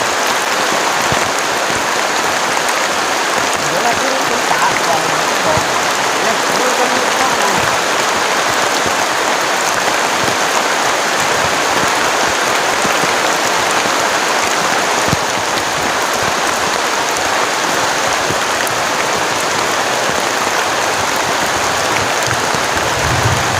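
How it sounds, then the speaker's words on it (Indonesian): Heavy rain pours steadily on a camping shelter during a storm, a dense, continuous hiss of downpour with no letup, close and loud throughout. "hujannya deras banget"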